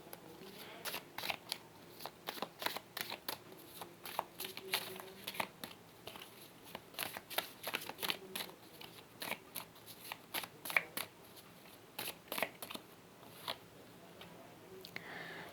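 Tarot cards shuffled by hand in a quiet room, a quick run of crisp, close riffling snaps and papery flutters repeating irregularly throughout.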